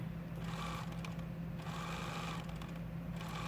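A sewing machine sews a dense satin stitch around the butterfly wings on a mystery quilt block. The motor whirs in a continuous close drone, with the needle's rapid chatter swelling in a few bursts.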